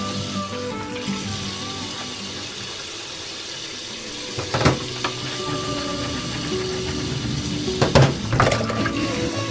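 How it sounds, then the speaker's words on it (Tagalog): Tap water runs steadily into a sink while dishes are washed, with a few sharper clinks and splashes of plates near the middle and end; no one speaks. "Naguhugas ng pinggan."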